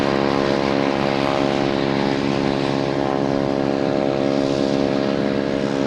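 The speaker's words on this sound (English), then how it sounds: "we should have the American Airlines E145 heading to Syracuse," An American Airlines Embraer E145 regional jet, operated by Piedmont, sits lined up on runway 27 at Boston Logan with its engines running, giving a loud, steady, droning whine with a strong tonal hum that holds level throughout.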